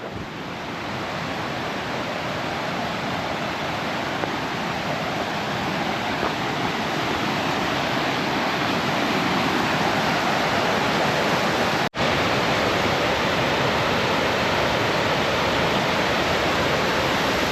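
A big waterfall roars as a constant, loud broadband rush with no breaks, close and steady throughout, with no voices.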